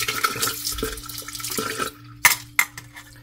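Coolant water from the radiator flows into the engine block during a car thermostat test, a steady rushing trickle that fades, followed by two sharp splashy gushes near the end.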